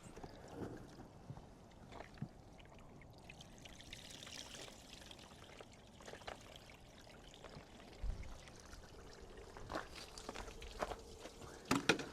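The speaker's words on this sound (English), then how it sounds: "Watch when I dump this water." Water poured over a car engine splashes and trickles in an uneven outdoor wash, with faint clatters and a few louder splashes near the end.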